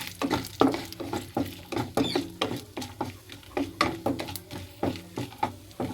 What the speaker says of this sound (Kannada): ಒಣ ಮೆಣಸಿನ್ಕಾಯಿ ಒಂದು ಸ್ವಲ್ಪ ಫ್ರೈ ಮಾಡ್ಕೋಬೇಕು ನಾವು.